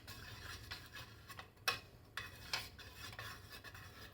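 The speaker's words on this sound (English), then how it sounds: "You need to continuously stir this for at least 2 minutes so that your fragrance oil is combined" Quiet stirring of melted candle wax blended with fragrance oil, soft scraping and light clinks of the utensil against the container over a low steady hum, with a few brighter taps standing out.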